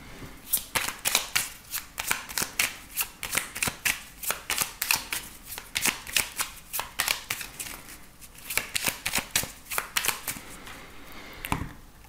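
Oracle cards being shuffled for a tarot-style reading, a long run of crisp, rapid riffling bursts in a steady rhythm, close and fairly loud with no voices.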